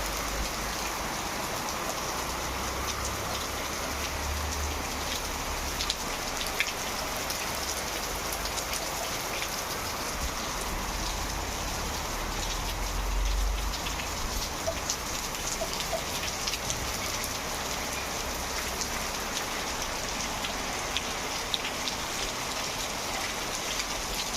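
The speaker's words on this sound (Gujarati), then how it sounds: "આવ્યો વરસાદ" Steady rain pattering on surfaces, an even continuous hiss with scattered drops, no voices.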